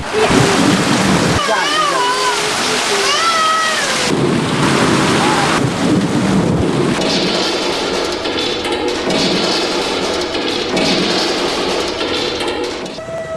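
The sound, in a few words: rain with thunder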